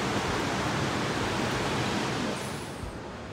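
Heavy, steady roar of the swollen Sutlej river rushing during monsoon rain, a dense broadband wash of water that stays loud throughout and eases slightly toward the end.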